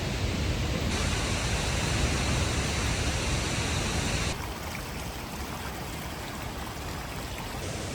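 Steady broadband rush of a stream at a water crossing on the Havasupai trail, loud and continuous throughout with no voices, dropping slightly in level halfway through.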